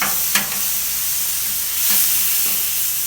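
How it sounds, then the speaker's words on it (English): Steady broadband sizzle of food frying on a hot Camp Chef flat top griddle, continuous and fairly loud, with a few faint scraping ticks. "just giving them a nice sizzle"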